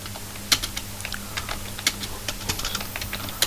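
Close typing on a computer keyboard while entering text in MS Word, with irregular clicking keystrokes and a few sharper louder taps over a steady low hum.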